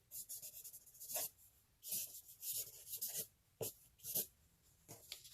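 A pen scratching out a signature on a coffee filter mandala artwork, close and quiet, in short irregular bursts of scratchy strokes separated by brief pauses.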